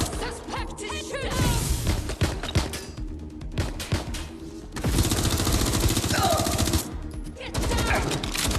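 Gunfire in Watch Dogs Legion, loud bursts of rapid automatic shots and crashes in clustered volleys with brief quieter gaps, alongside game voices.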